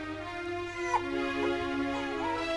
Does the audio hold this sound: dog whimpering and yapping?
yes